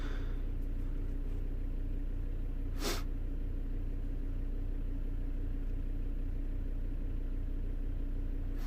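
A Volvo V70 D3 2.0 diesel idles steadily after turbo and EGR replacement with the engine light on, a constant low rumbling drone heard close, broken by one brief sharp click partway through.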